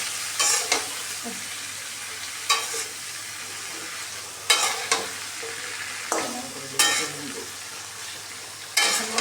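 Vegetables with singi fish frying in a pan on a home kitchen stove sizzle steadily while a spatula stirs them, giving sharp scraping strokes every couple of seconds over the continuous hiss.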